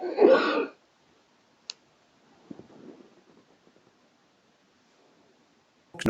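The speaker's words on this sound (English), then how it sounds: "I'm sorry, I don't mean to keep coughing into the." A burst of throat clearing and coughing up close, followed by a sharp click, quiet shuffling noises, and another abrupt noise at the end.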